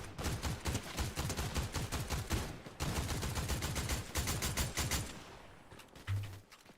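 Rapid video game gunfire bursts loudly and continuously for about five seconds in dense repeated volleys, then drops away to a brief low thump near the end, with no voices over it.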